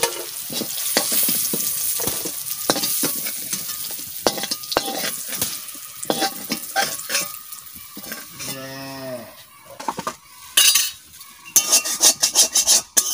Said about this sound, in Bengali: একটু সয়াবিনটা একটু ভালো করে ভাজা করে নিই